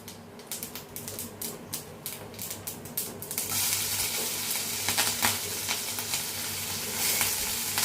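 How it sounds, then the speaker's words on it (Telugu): Green chillies dropped into hot oil for a carrot coconut curry, first a quick run of sharp crackles and pops, then a loud, steady sizzle that goes on close by. "పచ్చిమిరకాయలు కూడా వేసేద్దాం దాంట్లో"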